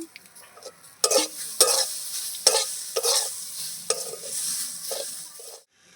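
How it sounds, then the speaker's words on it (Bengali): Rice grits frying in a pan before coconut goes in, as spatula strokes scrape and rattle in distinct bursts about every half second against a quiet background, ending in silence. "চালের গুঁড়িটা তো কুচিটা তো একটু ভাজা করে নিয়েছি এবারে নারকেলটা দিয়ে দেব"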